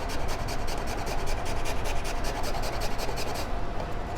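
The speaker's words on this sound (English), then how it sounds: "I'm just going to grate it like cheese." Something is grated over a microplane grater, making a continuous rapid rasping scrape with rhythmic strokes that fades at the end.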